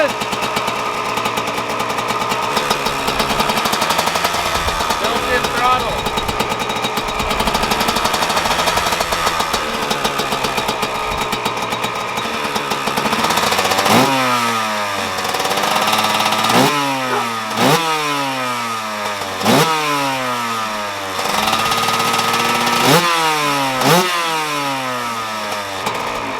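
Yamaha YZ125 two-stroke dirt bike engine idling roughly, then blipped hard several times, each rev climbing sharply and falling back in a rhythmic series of loud, close throttle bursts with no talk.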